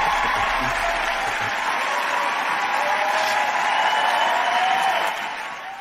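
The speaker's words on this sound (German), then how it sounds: "Einmal Applaus für Shadowban." Steady applause from a crowd, a continuous wash of clapping that holds level for several seconds before fading slightly at the end.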